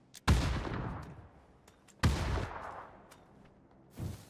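Grenade explosions and gunfire in PUBG on Erangel during a bridge block: two heavy booming blasts a couple of seconds apart, each rolling off slowly, with a few sharp distant cracks and a softer thump at the end.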